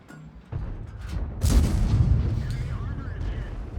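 Tank cannon fire in World of Tanks, a booming shot with a rolling low rumble and a second heavier blast a moment later, fairly loud within game audio.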